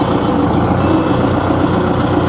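Kubota MU4501 tractor engine running steadily at low revs while the tractor reverses, a continuous near rumble with a constant drone and no breaks.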